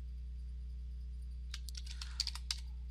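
Code typed on a computer keyboard in a quiet room, a short burst of close, quick key clicks after a steady electrical hum, with a few sharper taps standing out near the end.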